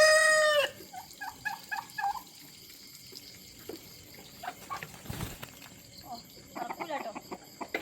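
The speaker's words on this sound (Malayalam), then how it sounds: "കോഴിയുടെ സൗണ്ടാണല്ലോടാ." A rooster crows loudly and close at the start, then gives a few short clucks, followed by scattered fainter farmyard bird noises and rustling.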